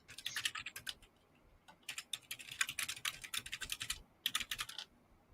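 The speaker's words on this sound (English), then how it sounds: "She's typing feverishly over there." Rapid computer keyboard typing in close bursts of quick clicking keystrokes, separated by brief pauses, quiet and without speech.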